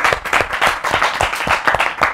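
An audience at a club gathering bursts into brief applause, quick uneven claps from several people blending into a short, lively patter.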